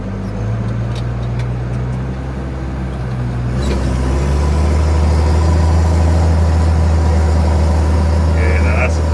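A three-wheel-drive JCB Fastrac tractor used for ploughing idles at about 1200 RPM, a steady low rumbling drone that deepens and grows louder midway, close and continuous, with faint background noise.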